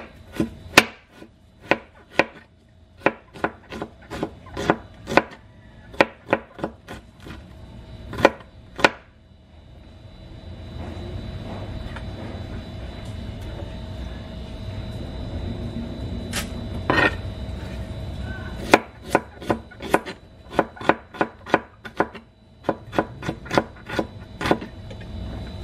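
Potatoes being sliced with a knife on a board in a home kitchen: repeated close, crisp chopping taps in irregular runs, pausing midway under a low background rumble before the cutting resumes.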